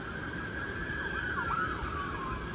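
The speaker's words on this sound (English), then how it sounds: "sorry about the sirens in the background." An emergency vehicle siren rises and falls steadily behind a constant low traffic rumble, sounding some distance away.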